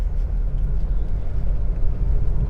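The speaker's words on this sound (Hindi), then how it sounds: "सेकंड गियर में स्लोली मूव कर रहा हूँ, उसी गियर में मैं अपनी कार को कंट्रोल करते हुए अपनी कार को आगे बढ़ा रहा हूँ।" Car creeping along slowly in second gear through city traffic, a steady low engine and road rumble heard from inside the cabin with no gear change in the short stretch.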